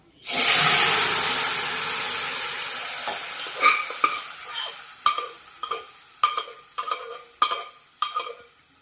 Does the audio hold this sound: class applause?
no